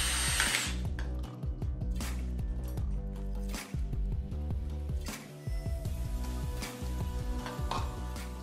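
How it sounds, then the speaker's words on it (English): A power drill bores holes through a plastic container for a kid's reusable water rocket and sprinkler, whirring steadily and loudly with brief pauses and restarts between bursts, alone and close by. "you will be drilling two holes that are the width of the skewer stick"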